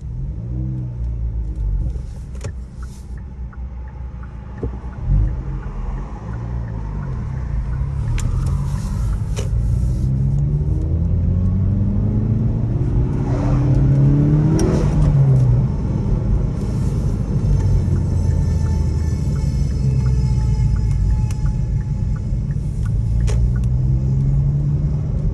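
Hyundai Veloster N engine running with a steady low rumble, rising into a couple of revs that climb and fall, loud and close throughout with no talking.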